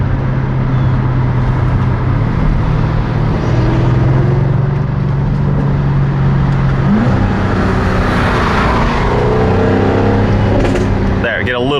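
A Jaguar F-Type R in dynamic mode with its exhaust valves open, running at a steady, loud engine drone throughout, with a brief rise in pitch midway. A voice talks over the engine.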